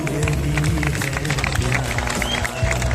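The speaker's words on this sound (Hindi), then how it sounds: "Give a huge round of applause." An audience at a network marketing event breaks into dense applause and crowd noise, a loud, sustained clatter of clapping over a low rumble of voices and music.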